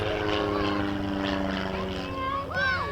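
A Twister light aerobatic aeroplane flies at an airshow with a propeller engine drone that rises and falls in pitch as it passes, and an announcer talks over it.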